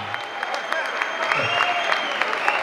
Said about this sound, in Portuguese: Mais aplausos, mais aplausos